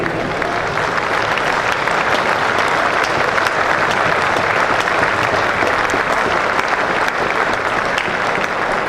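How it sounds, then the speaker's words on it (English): A cricket crowd of around 4,000 spectators applauds steadily at the ground, a sustained, even roar of distant clapping for the full stretch. "So the applause for that message of unity from the cricket authorities."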